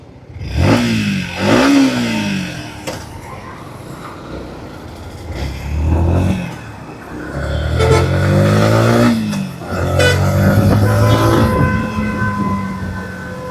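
A 2026 Yamaha MT-15 motorcycle engine revs and pulls through several rising acceleration bursts on the road, its rough harmonic drone loud and close, dipping between throttle openings with no talk over it.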